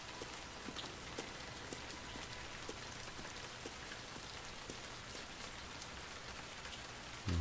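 Heavy downpour in the PS4 game Heavy Rain, a dense, steady wash of rain hammering surfaces with scattered drop impacts, loud and continuous throughout with no talk.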